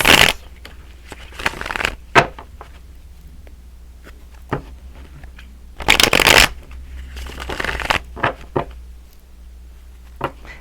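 Tarot cards being shuffled close by in short crisp riffling bursts and soft slides, a few louder flurries separated by quiet pauses.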